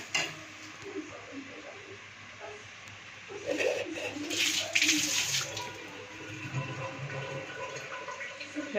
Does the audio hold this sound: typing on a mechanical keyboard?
no